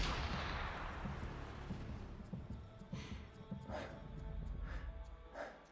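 Gunfire in the shooter game Warframe: a burst of shots at the start, then several sharp cracks spaced across the last few seconds over a low rumbling backdrop.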